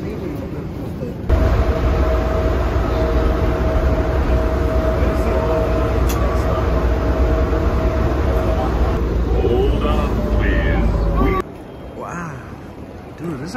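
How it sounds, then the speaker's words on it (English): An airport subway train rumbles along with a steady, loud low roar and rattling throughout, easing off near the end, while passengers talk. "We're gonna get in a train,"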